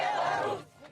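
A crowd at a Belarus rally in support of Lukashenko shouts together in a brief, dense roar that fades out after about half a second.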